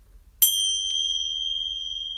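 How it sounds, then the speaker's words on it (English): A single struck bell opens a yoga class, one clear bright ding rising out of quiet and ringing on with a long, slowly wavering sustain. "ringing the bell."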